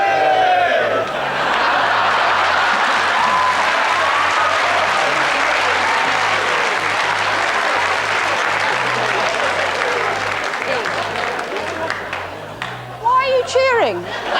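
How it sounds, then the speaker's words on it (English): Studio quiz-show audience cheering and applauding, a dense, sustained burst of clapping and whoops that holds steady before thinning out near the end, where a few shouts stand out. "Why are you cheering?"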